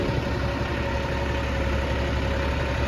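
Engine of a rented John Deere tractor pulling a plough, a steady close diesel drone with a low throbbing pulse and no voices.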